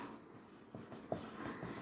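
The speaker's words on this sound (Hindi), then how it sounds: "तो लिखेंगे हम यहाँ पे" A pen scratches an equation onto paper during a class 10 maths lesson, faint close strokes with a few sharper taps in a quiet room.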